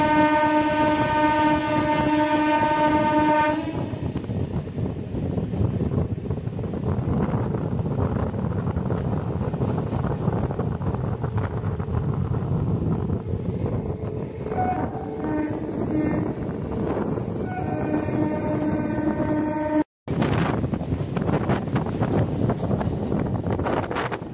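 A local train runs from Howrah toward Bandel, its steady rumble and rattle heard from inside, with a long horn blast at the start, another horn later, and a brief cut near the end.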